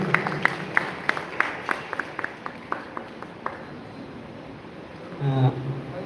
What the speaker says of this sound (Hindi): जोरदार ताली के साथ स्वागत।